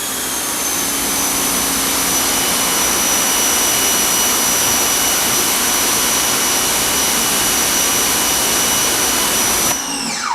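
A Ryobi 1800 psi, 1.2 gpm electric pressure washer sprays through an Uberflex hose with a loud, steady roar of water and a constant motor whine. It runs uninterrupted, then cuts off abruptly near the end.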